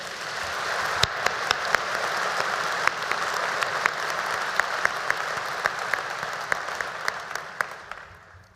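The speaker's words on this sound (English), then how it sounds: "Graduates, could we have another round of applause for our incredible speaker today?" Graduates at a Penn State College of Agricultural Sciences spring commencement applaud their speaker, a dense, sustained wash of clapping in a large hall, sharp individual claps standing out near the front before it tapers off.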